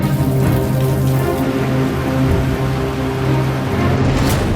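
Heavy monsoon rain in the mountains of Uttarakhand, a loud continuous wash of rainfall hitting surfaces, dense and steady throughout with no speech.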